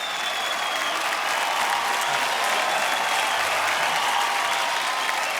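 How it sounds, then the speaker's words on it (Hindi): Loud, sustained applause from a studio audience at a televised dance competition fills the whole stretch, a dense steady wash of clapping with no pauses. "कई बार जोरदार तालियां हो जाए"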